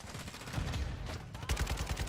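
Gunfire in Modern Warfare 2: a quick string of sharp shots, sparser at first and then a tight rapid burst near the end, moderately quiet.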